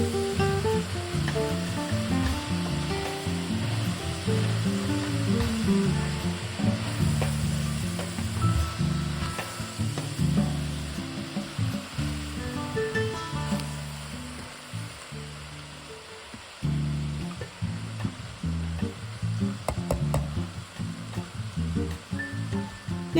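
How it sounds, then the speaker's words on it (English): Chopped cabbage in a pot, with Italian seasoning and paprika just added, is stirred through a steady, moderately loud sizzle, with occasional scraping and shuffling as the spoon moves. "I'm going to give it a good stir"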